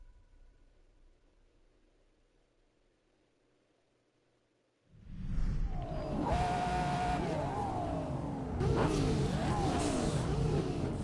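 A car engine revs up in a Test Drive Unlimited Solar Crown race, jumping abruptly from near silence to a loud, sustained roar with rising and falling pitch sweeps, and no talking.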